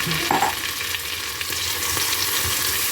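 Garlic sizzles steadily as it fries in a pot while cooking a broccoli cheddar soup, a constant broadband crackle with a brief stir or clink early on, close and fairly loud, no voices.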